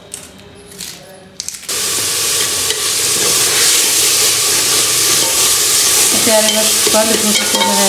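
After a brief quiet stretch, a tempering of spices hits hot oil in a pan and sizzles loudly and continuously, with some clinking and stirring near the end.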